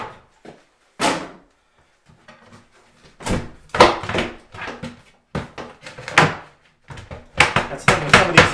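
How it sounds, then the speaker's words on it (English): Doors of an old, water-damaged bathroom vanity cabinet being pulled off, giving a series of sharp wooden knocks, thunks and clatters in irregular bursts, close and fairly loud, with brief quiet gaps between them. "get rid of the doors."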